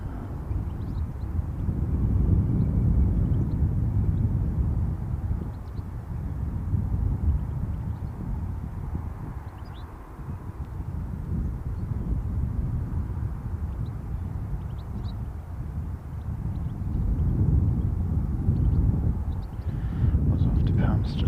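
An ATR turboprop airliner rumbles at an airport in Christchurch, its low broadband engine roar rising and falling steadily for a long stretch with wind buffeting.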